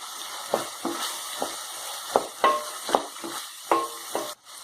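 Ginger garlic paste and green chillies frying in a pan for a chicken masala fry, with a soft sizzle broken by repeated scraping stirs of a spoon at an irregular pace.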